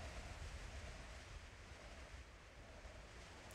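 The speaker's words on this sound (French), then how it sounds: "vous voyez la descente, vous entendez le vent" Steady wind rushes throughout a Mars lander descent recording, a faint, continuous broadband roar with no other clear sounds.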